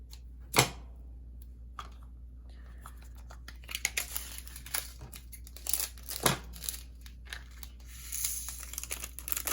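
Small scissors snipping the numbered label off a plastic diamond art color bag, close by: a couple of crisp cuts with crinkling plastic handling and soft rustles between them.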